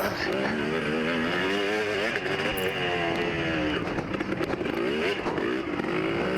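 Dirt bikes snarl around a motocross track during a hare scramble race, a loud continuous engine drone with rising and falling revs as riders pass close by, with talking over it.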